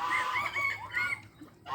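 Several hens on a farm flock of over a hundred cluck and trill in a busy, overlapping chorus nearby, with steady background noise beneath.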